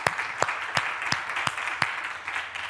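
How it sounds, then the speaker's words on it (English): Conference audience applauding after a talk, a modest spread of clapping with a few sharp, evenly spaced claps standing out close by over softer clapping from the room. "let's thank Christoph with a ComCon round of applause"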